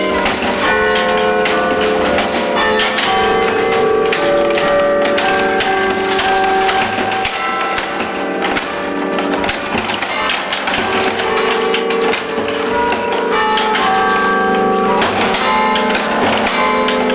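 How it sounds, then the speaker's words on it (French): Carillon bells of Notre Dame church in La Ferté-Macé, part of a set of sixteen, ring in a continuous, overlapping peal. Many bright strikes of different pitches chime steadily and loudly throughout, with no voices. "Sur cet ensemble de 16 cloches, 8 peuvent être sonnées à la volée"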